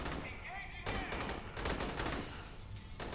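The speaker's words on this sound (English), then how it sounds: "it sounds like a pump action shotgun" Pump-action shotgun blasts in the Aliens: Colonial Marines video game, a few loud booming shots with dense gunfire noise filling the clip, and faint voice-like sounds mixed underneath.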